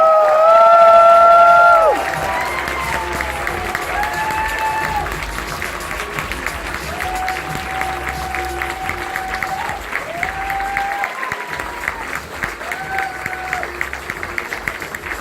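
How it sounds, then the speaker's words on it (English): A crowd at the closing ceremony of a pony fan convention claps and cheers steadily for sponsors. Loud, dense applause with whoops, and a loud whistle or cheer at the very start. "So please give even your biggest round of applause you can muster"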